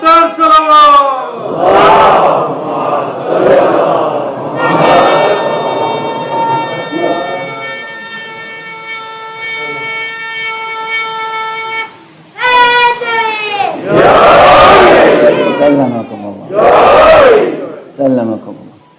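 Large crowd at a Muharram majlis loudly chanting salawat in unison, several roaring bursts separated by a long sustained droning call, with a lull in between before the crowd swells again.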